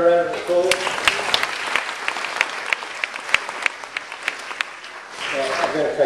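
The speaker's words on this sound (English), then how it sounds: "Give Xavier a round of applause." An audience at a community fire brigade briefing claps for about five seconds, with the applause fading between bursts of talk at the start and end.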